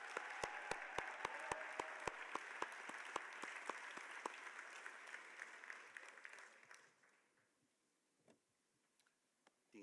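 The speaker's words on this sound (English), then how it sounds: "Let's give them another big round of applause." Applause for awardees at a graduate hooding ceremony, a sustained crowd clap that tapers off over several seconds into quiet, overlaid by a regular, sharp ticking for the first half.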